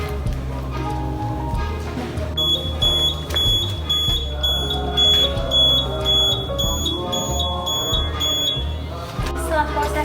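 An electronic alarm beeps in a rapid repeating pattern in a water treatment lab, signalling the end of a flocculation test, loud and steady over a background of music-like tones.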